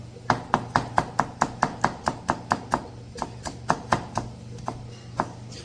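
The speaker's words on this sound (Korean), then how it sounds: "채를 썰어서. 자, 요렇게 딱 썰고, 이게 힘들잖아요." Knife cutting food into thin julienne strips on a board, a fast, even series of sharp taps that pauses briefly, then resumes more irregularly, close and alone.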